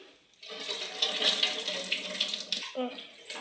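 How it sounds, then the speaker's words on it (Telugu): Tap water runs steadily over tamarind as it is rinsed in a kitchen sink, a close, continuous splashing hiss that starts after a brief quiet moment and carries on with small shifts in flow. "మమ్మీ కడుగుతుంది ఎందుకంటే ఏదైనా డస్ట్ ఏమైనా ఉంటే కదా పోతుంది"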